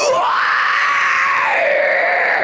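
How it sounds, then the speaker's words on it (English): A single long vocal scream, loud and sustained for over two seconds, thickened by a compressor and overdrive on a Quad Cortex rig in drop G tuning, with a falling pitch near the end. "You can really hear how the compressor and the overdrive is kind of getting them screams just a little bit beefier"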